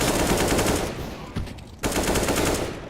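UMP submachine gun fire in a Counter-Strike match comes as loud rapid bursts, one long spray, a short gap with a few stray shots, then another sustained burst.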